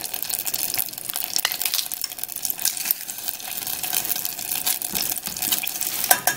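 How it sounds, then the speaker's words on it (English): Five garlic cloves heating in oil crackle and sizzle continuously, with small pops and spatters scattered through a busy, fairly close frying hiss. "Just heating it up gets it nice and garlicky, and the garlic spreads out through all of the oil."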